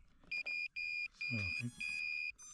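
A series of loud, high-pitched electronic beeps in short and long bursts from a KY-Z2 bicopter drone, close by, with a brief low rumble in the middle.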